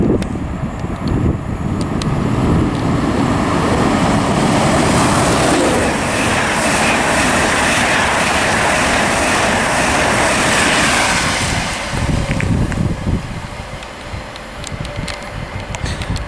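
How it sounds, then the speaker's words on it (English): An LNER HST passenger train rushing through Grantham station on the East Coast Main Line, a loud, close, sustained roar of engine and wheels that eases off near the end. "Okay, passing through now is a LNER service to Edinburgh Waverley,"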